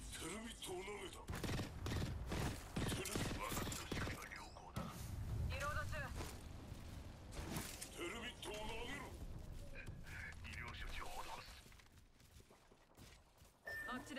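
Rapid, sustained gunfire in the Apex Legends shooter as an enemy's shield is hit: dense, loud bursts of shots and mechanical clatter, with game effects throughout and a voice talking at times.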